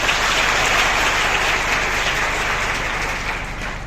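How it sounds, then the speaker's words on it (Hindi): A crowd claps for a group of girls after their performance, a dense and steady burst of applause with no voices, easing slightly toward the end. "जो बच्चियां प्रोग्राम करके गई थी उनके लिए जोरदार तालियां"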